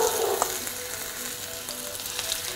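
Tandoori broccoli frying in a pan, a continuous close hiss of sizzling oil with small crackles and faint stirring, no voices.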